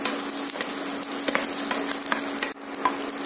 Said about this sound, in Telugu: పచ్చిమిర్చి కూడా ఫ్రై అయిపోయినాయండి